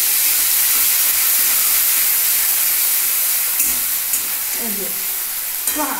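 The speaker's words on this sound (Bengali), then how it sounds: "আর এবার কাঁচা জিরাটা এর মধ্যে কষিয়ে নিচ্ছি যাতে এখানে ভাজা ভাজা হয়ে যায়" Raw cumin seeds frying in a pan with green chilies for a kochu shak dish, giving a steady close sizzle and hiss throughout, with a few soft stirring scrapes near the end.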